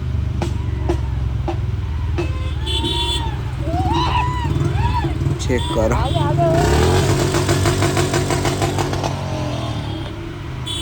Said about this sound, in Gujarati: ખાલી બુલેટનો વોલ્યુમ સાંભળો